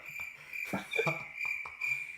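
Crickets chirp steadily in a nighttime field, a continuous high trill that holds moderately loud throughout with faint rustling beneath it.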